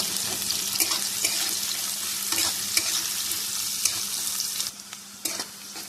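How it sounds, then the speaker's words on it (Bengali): Onions sizzle in hot oil while a spoon scrapes and clicks against the pan at irregular intervals. "এবারে দেবো কিছুটা পেঁয়াজ, সবটা দেবো না, একটু পেঁয়াজটা ভেজে নেব"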